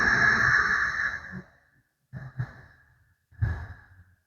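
Slow breath drawn through the throat with lips closed during a yoga practice, a long hissing, airy exhale followed by softer, shorter breaths after a pause, close and intimate.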